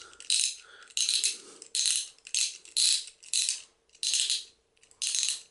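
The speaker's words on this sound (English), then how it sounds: "How many clicks is appropriate before I'm starting to over tighten it?" A Beyblade X toy part is tightened with a run of crisp ratcheting clicks, about eight close, evenly spaced bursts in quick succession.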